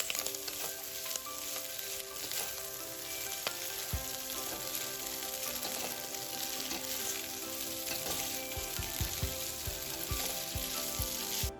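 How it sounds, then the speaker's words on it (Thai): Pasta stir-fried in a pan with bacon and dried chili, giving a steady bright sizzle with scattered clinks and scrapes of stirring, and no voices. "จากนั้นก็ใส่เส้นพาสต้าลงไปผัด"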